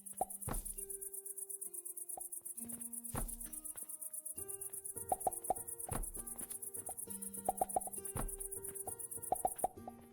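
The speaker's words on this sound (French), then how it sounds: "Ah non, c'est les insectes." Insects chirping in the video game Alchemy Factory, a steady high-pitched buzzing drone layered over repeated soft plopping and knocking game sounds, alone with no voices.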